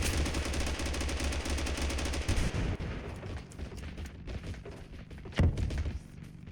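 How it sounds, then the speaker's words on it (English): Grenade launcher and gunfire in the TABG video game: a dense burst of rapid shots and thumps, followed by scattered single blasts and one sharp louder explosion near the end, with no voices. "He's got a grenade launcher."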